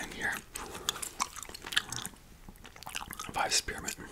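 Close, wet chewing of Vive spearmint gum with soft crunches and mouth clicks, steady and intimate, heard alongside quiet whispered speech.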